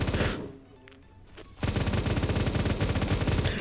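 An MG3KWS light machine gun fires in the Roblox game Phantom Forces: a dense, loud, sustained burst of rapid automatic fire resumes after a brief lull with faint scattered shots.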